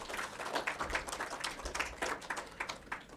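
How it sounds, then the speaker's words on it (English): Quiet applause from an audience at a medical award ceremony, honouring the shortlisted candidates, a soft continuous patter of many hands heard from a distance throughout. "Ladies and gentlemen, please join us to give them a big round of applause again"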